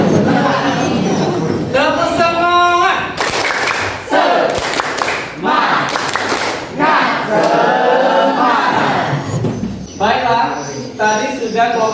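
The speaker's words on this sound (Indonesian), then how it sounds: "Kita tepuk semangat dulu." Indonesian schoolchildren in a classroom perform a rhythmic group spirit clap, loud and close, with bursts of claps between chanted shouts and voices throughout.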